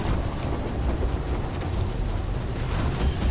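Spaceship shot down and exploding in Star Citizen, heard as a loud, sustained roar of blast and rumbling debris with crackling bursts, continuous throughout and close.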